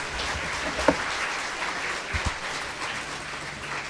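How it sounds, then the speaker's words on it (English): Steady applause from an audience at a school concluding function, a dense continuous patter of many hands clapping at moderate volume. "Let's appreciate them with a big round of applause."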